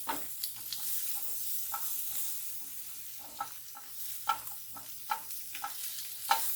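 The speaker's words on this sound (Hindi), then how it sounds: "अभी आप वेजिस को हल्का सा मिक्स कर लें।" Vegetables being stirred in a hot pan while preparing chicken and beef steak, with repeated scraping and clinking strokes over a steady soft sizzle, close and fairly quiet, no voices.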